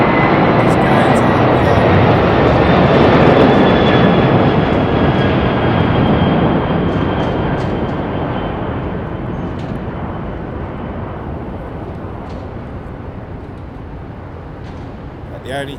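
An Air Atlanta Boeing 747 cargo jet arriving at London Heathrow gives a loud, steady broadband engine roar that slowly fades over about sixteen seconds, with faint high whines above it.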